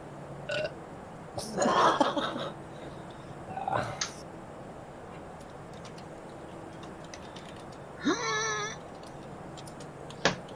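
A man burps loudly and gurgles close to a microphone, with a couple of shorter rough bursts and a faint cat-like whine partway through, against a low steady hum with no talking.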